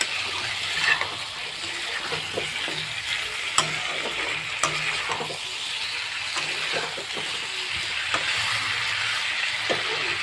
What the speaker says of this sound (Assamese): মাংসখন ভাজা কৰি আছে